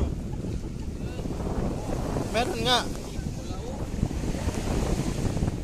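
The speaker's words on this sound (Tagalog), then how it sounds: "malakas ang hangin" Steady strong wind buffeting the microphone over open sea off Palau, with a low broadband roar, a brief voice cutting through midway.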